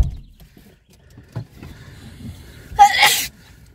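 A single loud sneeze sounds close by inside a car, following quiet rustling and small movement noises, with no speech heard.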